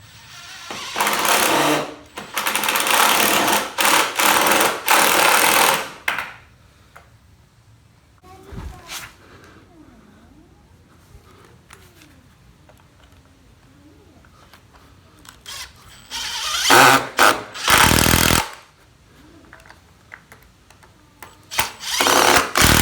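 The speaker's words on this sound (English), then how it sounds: "And now it's time for more pocket holes and more pocket screws." A power drill bores pocket holes and drives pocket screws into wooden boards while building a farmhouse table. Loud whirring bursts of a few seconds each come at the start and end, separated by a long, quieter stretch.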